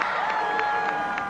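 Crowd of more than 100,000 Penn State football fans cheering at a homecoming game, a steady wash of distant crowd noise with faint whistles and tonal sounds on top, and no speech.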